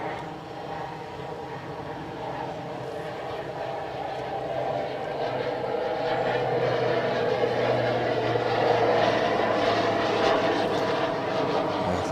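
Airplane passing at Adelaide Airport, a steady broadband engine roar that swells slightly louder over the clip, heard from a moderate distance with no talk.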